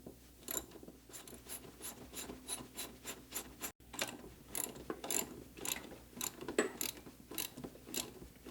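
A socket wrench ratchets on a wheelchair axle in a quick run of close, crisp clicks, with a brief break partway through before the clicking resumes.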